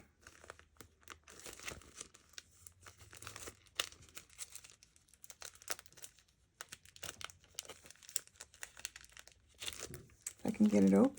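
A crinkly packet holding rice-paper sheets is handled and forced open, giving repeated crumpling and rustling bursts that grow louder toward the end, with a person talking alongside.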